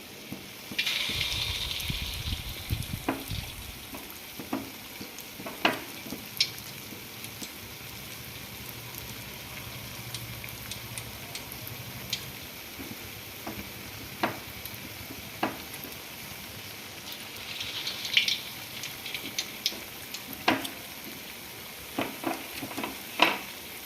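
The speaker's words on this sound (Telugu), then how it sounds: "సిమ్లో మీడియం ఫ్లేమ్లో పెట్టేసుకొని ఫ్రై చేసుకుందాం" Andhra purnalu frying in oil on a medium flame, with a steady soft sizzle and bubbling and occasional sharper crackles and pops as the sweets cook, with no voices.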